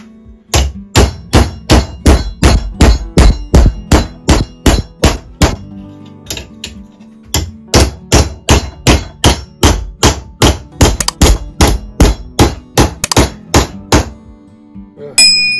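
Steady, evenly spaced hammer blows striking an iron bar to straighten it, loud and close, about two strikes per second with a short pause midway and a ringing metallic edge.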